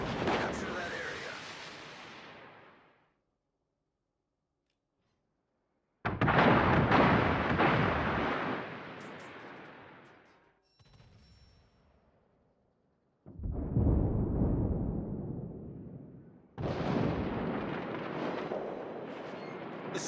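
Heavy naval artillery fire from warships in World of Warships, booming salvos in four loud, roaring bursts separated by near-silent gaps, each blast rumbling and decaying over a few seconds.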